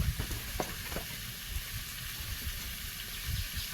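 Food fries in a pan with a steady, fairly quiet sizzle and hiss, a few soft stirring knocks near the start, no talking.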